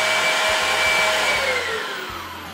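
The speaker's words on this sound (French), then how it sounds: "la turbo brosse est efficace qu'à haute vitesse, donc attention quand vous le lancez, mettez-le à haute vitesse" A Samsung electric turbo brush runs at high speed, a loud steady motor whine with a falling pitch as it spins down toward the end, over a low rhythmic rumble from the rotating roller.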